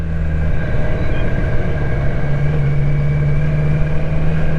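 A BMW K1200LT touring motorcycle idles with a smooth, steady low hum and even engine pulse, close and continuous with no talk over it.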